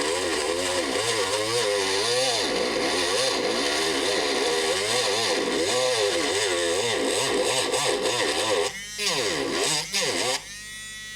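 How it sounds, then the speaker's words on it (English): A Dremel rotary tool cuts into a metal part of a Samsung A16 phone, a loud, close, buzzing whine that wavers in pitch as the load changes, then drops and stops near the end. "I'm gonna use the Dremel to try to cut this one"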